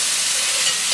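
Onion fries in a pan while being stirred, a dense, bright, steady sizzle that lasts about a second, close and fairly loud, with no voices.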